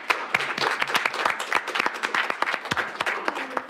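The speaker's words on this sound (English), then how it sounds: "if you would give them a round of applause" An audience at a youth council meeting claps for outgoing officers, a brief burst of dense applause from a small indoor crowd with irregular sharp claps throughout.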